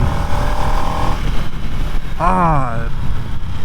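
A 2024 Harley-Davidson Nightster Special holds a steady engine tone, then revs sharply up and back down to high RPM, close and loud, over constant background noise.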